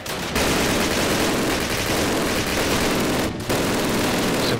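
Dense, continuous gunfire and machine gun bursts from a Call of Duty battle, loud and near, forming a steady roar with one brief break near the end and no talk.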